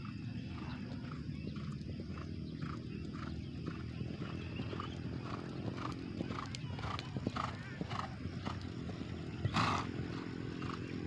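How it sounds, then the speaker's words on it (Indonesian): Race horses train for the traditional Gayo horse race, their hooves making faint, distant rhythmic clip-clops over a low outdoor rumble with voices in the background. "ada beberapa ekor kuda yang akan dilepas untuk berlatih di pagi hari ini"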